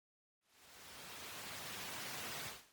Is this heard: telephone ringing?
no